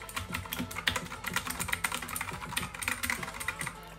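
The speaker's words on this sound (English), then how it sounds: "you can't tell me that this keyboard does not sound satisfying" Quick, quiet clicking from typing on a computer keyboard at a new 2022 gaming setup, a rapid, irregular run of keystrokes heard alone and up close.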